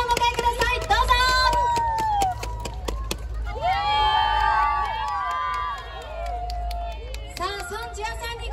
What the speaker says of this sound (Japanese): 皆さん盛大な拍手でお迎えください。